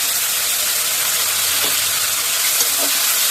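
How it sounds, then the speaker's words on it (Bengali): Potatoes frying in a pan in a home kitchen give a steady, close sizzle and hiss that runs unbroken throughout, with a couple of faint clinks or stirs partway through and no talking. "এবার আলুগুলো ভেজে নেব"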